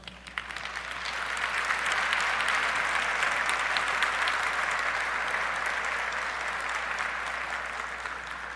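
A church congregation breaks into applause during a sermon. The clapping swells within the first second into a sustained, even roar of many hands, then eases slightly toward the end.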